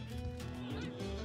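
Horses whinny in the battle game Totally Accurate Battle Simulator, a short, shrill neigh over a loud, dense wash of rumbling game noise and combat clamour.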